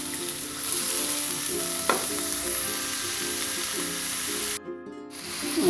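Tofu, petai beans and garlic chive flowers frying in a wok, a loud, steady sizzle with the occasional scrape of stirring, no talking.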